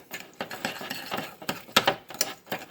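Ground meat mixed with ketchup for meatloaf, a run of close, wet squelching and clinking utensil strikes against a bowl in an uneven rhythm, no voices.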